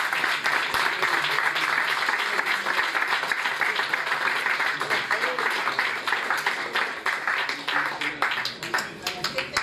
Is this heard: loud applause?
yes